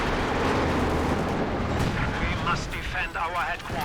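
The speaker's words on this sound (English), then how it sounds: "Sprinting out of the Katyusha barrage." A Katyusha rocket barrage in Company of Heroes 2, a dense roaring wash of launches and explosions that fades into a voice talking over continuing battle noise.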